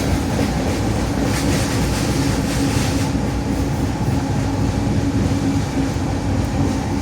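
A freight train rolls through a mountain tunnel on the line between Colton and Dunsmuir, California. The steady, loud rumble and rhythmic rail clatter fill the whole stretch with no talk.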